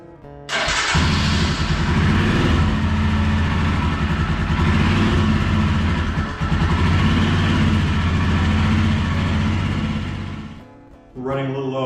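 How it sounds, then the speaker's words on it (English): A Royal Enfield Himalayan motorcycle engine starts and runs at a steady idle for about ten seconds, close and loud, then shuts off, with a brief voice at the end. "I'll run the engine."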